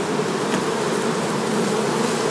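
Honey bees in a queen-rearing colony buzz loudly and steadily at close range, a dense, unbroken hum with no voices.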